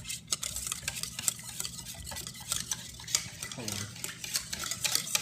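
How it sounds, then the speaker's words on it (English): A spoon stirs a chocolate pudding mixture in a pot, giving repeated scraping and soft clinking strokes in an irregular rhythm, close and fairly quiet, with a faint sizzle beneath. "so now we're just going to mix this together"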